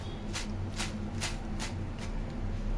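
Crispy fried okra (ladies finger) snack being tossed or handled, giving five evenly spaced dry crackling rustles about every 0.4 seconds over a steady low background hum.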